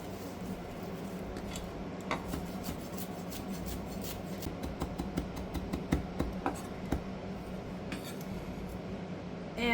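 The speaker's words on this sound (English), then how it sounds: "while we chop up our flat leaf parsley" Knife taps and rocks against a cutting board mincing flat leaf parsley, a quiet irregular series of soft chops with faint kitchen background.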